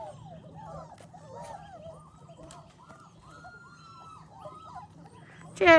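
German shorthaired pointer puppies whimpering in the cold, a run of thin, rising and falling whines close by over a low steady hum, ending with a louder yelp.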